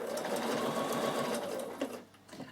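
A Bernina sewing machine stitches fabric along an edge guide, running steadily at close range as a dense continuous whir with rapid needle chatter, then easing off and stopping near the end with a couple of faint handling clicks.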